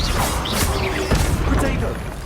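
Revelio spell cast in Hogwarts Legacy: a burst of magical whooshes and shimmering chimes with a crash-like impact, busy game effects filling the short moment.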